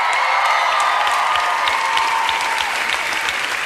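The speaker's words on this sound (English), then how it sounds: "a massive big round of applause for Ricky, please." Live studio audience at an X Factor spin-off show claps loudly and steadily in a dense burst of applause, with faint cheering mixed in.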